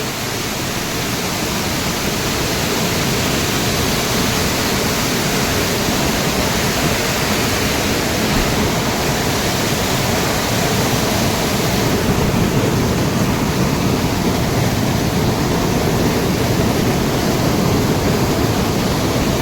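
Loud, steady rushing of a large volume of water, a dense unbroken roar filling the whole clip with no pauses.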